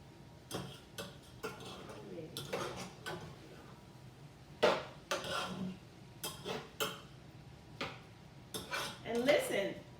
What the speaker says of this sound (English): Give this a good stir. The chicken is cooking. The sausage is cooking.